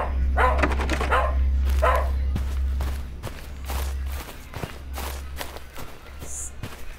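A dog barks repeatedly in the Pinoy horror video game Hapunan, the sharp barks spaced unevenly over a steady low hum and soft footsteps.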